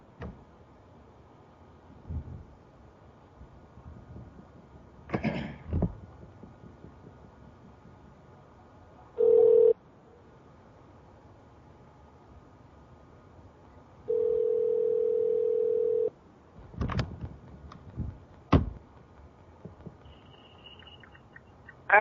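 A steady telephone dial tone sounds while a call is being placed, with a brief burst of the tone early on and a longer unbroken stretch later, set among scattered clicks and handling noises.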